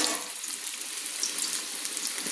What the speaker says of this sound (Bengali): প্রথমে গাজরগুলো তুলে দিলাম ভেজে নেব বলে